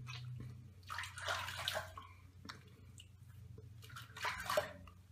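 Water splashes as soap is rinsed off a face after a wet shave, coming in two soft bursts of splashing and dripping over a steady low background hum.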